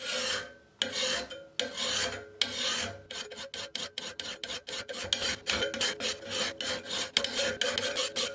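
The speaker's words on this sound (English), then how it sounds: "start out there and start pushing the file across the blade" A metal file pushed across a lawnmower blade to sharpen it: close, loud rasping strokes, a few long ones at first, then a quicker steady rhythm of repeated scrapes.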